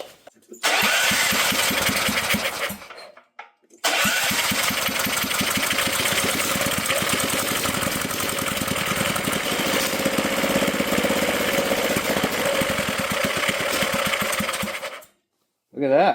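An old, formerly seized generator engine cranks over, dies briefly, then catches and runs loudly and steadily with a rough, rapid chugging before it cuts out near the end. A voice speaks briefly.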